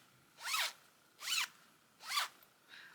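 A zipper on a hand-knitted tank top is pulled in three quick, close strokes followed by a shorter fourth, each a crisp rasping zip with quiet pauses between.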